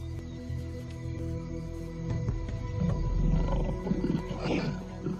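A lion roars in the African bush, a deep, loud, rumbling roar swelling in the middle and fading, heard fairly close in the open air.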